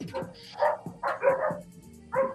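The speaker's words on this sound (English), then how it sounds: "Your dogs are so happy, Trent." Several dogs barking and yipping excitedly in short bursts with brief whimpers in between, somewhat distant and moderately quiet, as if heard over a call.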